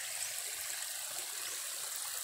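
A stream of water rushes steadily at a swimming spot, a continuous broadband wash with no distinct splashes or voices.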